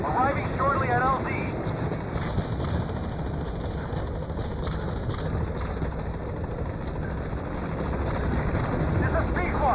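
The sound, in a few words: helicopter B-Quad arriving at landing zone, video game Metal Gear Solid V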